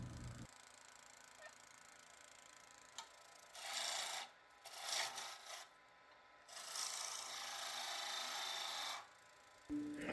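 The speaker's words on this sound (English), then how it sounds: "Moving on to my favorite kind of cut, which is a peeling cut." A knife makes peeling cuts on a wooden ladle during carving: several long rasping scrapes in separate strokes, close and fairly clear against a quiet background, with no talking.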